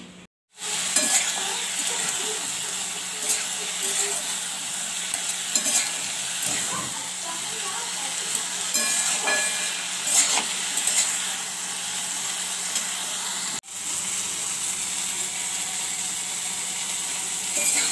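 Boiled eggs frying and dal being tempered in a kadai, with a steady sizzle lasting throughout, intermittent stirring and scraping, and a few clicks and knocks close by.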